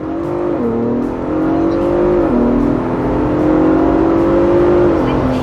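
A 2022 Ford Bronco Raptor with a Whipple calibration launches hard in a 0-60 run, its engine note rising in loud, steady pulls with distinct shift dips, close and dominant over the cabin.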